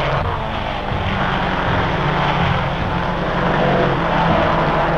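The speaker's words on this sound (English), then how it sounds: "the big boats knife through the water, their powerful engines kicking up spray" Racing speedboats from 1951 at full speed, their powerful engines giving a loud, steady droning roar with no pause, like an old newsreel soundtrack.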